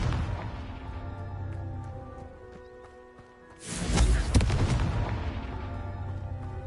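A Confringo fire-blast spell goes off in Hogwarts Legacy, a sudden loud explosive burst around the midpoint that rumbles on and slowly decays over a steady musical game background.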